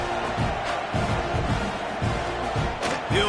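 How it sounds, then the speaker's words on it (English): A stadium crowd in College Football 26 makes a continuous murmuring roar with scattered shouts, steady and moderately loud throughout. "that last score took a little oomph out of this crowd"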